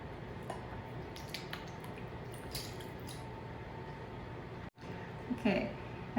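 Wet squash blossoms are shaken over a towel, giving faint, scattered drips and soft wet pats under a low background hiss, with a brief louder splash near the end.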